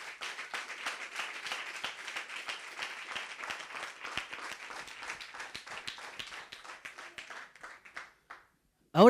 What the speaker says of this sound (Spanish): Vamos a dar un aplauso a Dios por eso.